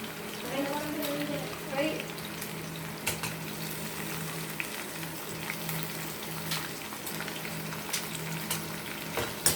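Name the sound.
tomatoes frying in a pan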